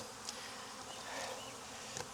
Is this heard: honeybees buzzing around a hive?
yes